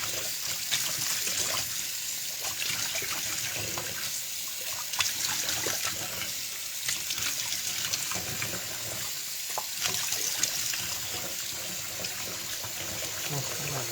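Tap water runs steadily while sausage casings are rinsed in a sink, a continuous splashing trickle with small surges, close and unbroken, with no talk over it.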